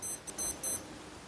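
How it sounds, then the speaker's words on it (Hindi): A Casio digital watch alarm sounds four quick bursts of high, thin electronic beeps in an uneven pattern, close and clear with no talking. "ये देखिए अलार्म बज चुका है"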